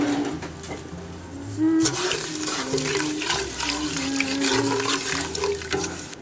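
Water pours and splashes steadily into a container of turkey brine, a continuous gurgling wash with a louder surge partway through and no speech.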